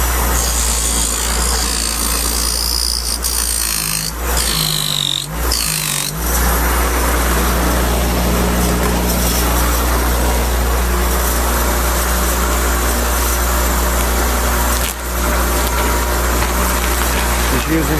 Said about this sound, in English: So if you're going to polish stainless steel, clean your buffing wheel with stainless steel.